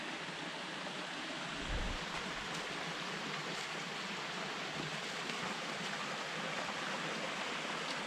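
Water flowing steadily at Crystal Springs near an old mill site, a constant broad rushing wash with no talking.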